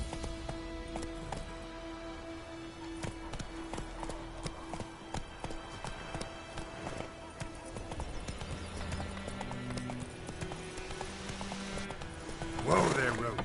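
Hooves of Geralt's horse Roach clip-clop steadily in The Witcher video game, a rhythmic trot running under game music and spoken dialogue, with a brief louder burst near the end.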